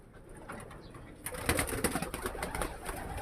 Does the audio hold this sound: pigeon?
yes